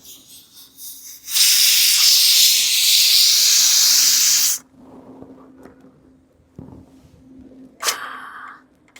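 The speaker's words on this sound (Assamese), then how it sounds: "এতিয়া অকণমান প্ৰেছাৰটো কমালে ৰ'ব লাগিব, আৰু কমিলে আমাৰ মাংস ৰেডি।" A pressure cooker holding meat lets off a loud, close burst of hissing steam lasting a few seconds, then falls quiet, with a shorter hiss returning near the end.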